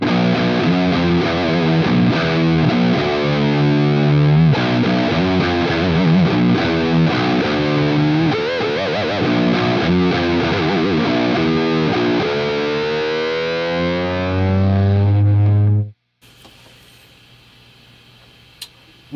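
An electric guitar played through a Metaltronix preamp gives heavily distorted, grungy chords and riffs, loud and close, ending on a long sustained note before cutting to near silence.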